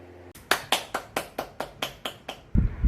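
About nine sharp hand claps at a slow, even pace, close by, followed by a dull thump.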